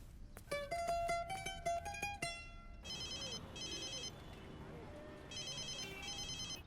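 A telephone rings indoors in repeated electronic trilling bursts at moderate volume, with busy background noise beneath and a sharper sequence of tones just before the ringing.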